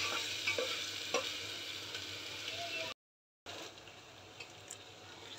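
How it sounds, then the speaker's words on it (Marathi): Masala sizzles in oil in a pan over a low flame while being sautéed for a black peas curry, a steady close frying hiss with stirring scrapes and a brief silent break midway. "चांगलं परतून घेऊया। तेल सेपरेट होईपर्यंत परतून घ्यायचं।"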